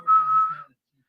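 A single short whistled note, clear and steady, held for about half a second before silence.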